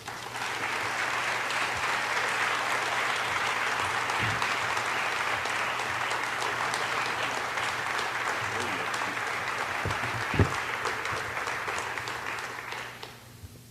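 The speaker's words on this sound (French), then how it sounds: "Merci beaucoup pour les applaudissements." A conference audience applauds steadily to welcome a speaker at a talk on declaring poverty illegal. The clapping is dense and even and holds at a constant level for about thirteen seconds before fading out.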